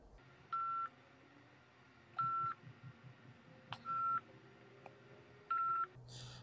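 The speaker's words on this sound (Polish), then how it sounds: "rasmiy saytdan telefon raqamini oldik va telefon qilamiz" Telephone keypad dialing tones while calling an official hotline for information on working in Russia: short clusters of DTMF beeps in five evenly spaced bursts, each preceded by quiet button clicks, over a low background hum.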